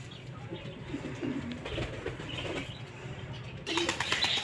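Pigeons kept at home, two of them prone to fighting, with a nest holding a newly hatched chick; close, low murmuring coos and soft rustling in a steady stretch, ending in brighter chirps and fluttering.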